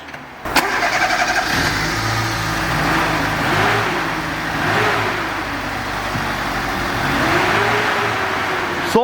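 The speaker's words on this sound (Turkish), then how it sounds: "Araca marş yapıyoruz." A Fiat Uno engine with oil and water leaks cranks and starts, then revs up and down several times in slow swells over a steady nearby idle.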